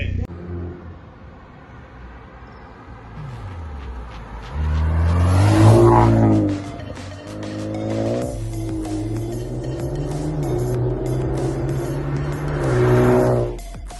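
A modified Kia Cerato Koup with a 6-speed automatic drives close by, its engine rumbling steadily, then revving hard at about five seconds. Gear-like pitch shifts follow, with another rising rev surge near the end.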